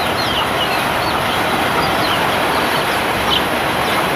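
Young chickens cluck and peep continuously inside a shipping container over a dense, steady background of rain-like noise.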